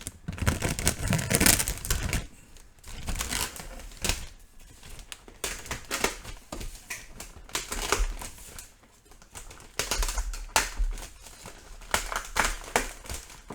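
A blade slices and tears into the cardboard and plastic packaging of a 1/200 scale USS Arizona model kit, giving irregular close crinkling, scraping and tapping bursts with no talking.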